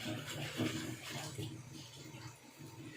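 Batak onions and long beans being washed clean in water, a steady close splashing and swishing with brief louder sloshes, no voices.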